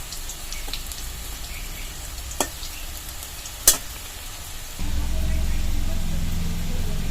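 Egg fritters (borar) frying in a kadai for a Bengali egg fritter curry, giving a steady soft sizzle with a couple of sharp clicks and a louder, fuller sizzle toward the end.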